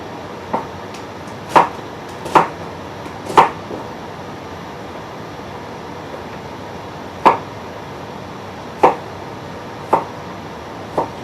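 Knife chopping food on a board while roasted lamb shoulder is prepared: a scattered series of sharp, separate cuts, a few close together at first, then spaced out after a pause, fairly loud against a quiet kitchen background.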